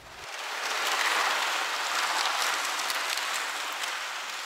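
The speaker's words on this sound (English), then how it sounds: "This is the sound of bubbles coming from the bottom of Puget Sound." Underwater sonar recording of methane gas bubbles rising from the Puget Sound seafloor, a steady dense crackling hiss like crinkling, continuous and fairly quiet for several seconds.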